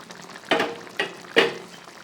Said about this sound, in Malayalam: ഇനി ഒരു മീഡിയം ഫ്ലെയിമിൽ വെച്ചിട്ട് വെള്ളം ഒന്നും കൂടി ഒന്ന് വറ്റിച്ചെടുക്കാം.